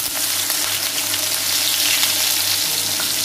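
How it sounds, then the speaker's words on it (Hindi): Hilsa fish pieces frying in mustard oil give off a loud, steady, dense sizzle that holds evenly from start to finish, with no voices over it. "अब इसमें मैं धीरे धीरे से जो मछलियां हैं उनके पीसेस रखूंगी फ्राई होने के लिए।"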